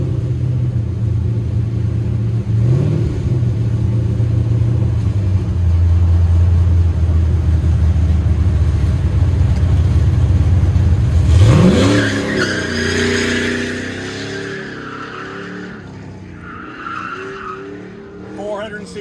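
An LS3 V8 race car on an autocross course during an autocross shootout, a loud steady engine drone that climbs sharply in pitch with hard acceleration and tire noise, then fades as it pulls away, under a commentator's voice.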